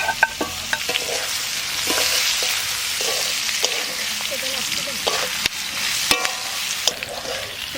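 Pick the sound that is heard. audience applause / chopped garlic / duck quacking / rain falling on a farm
chopped garlic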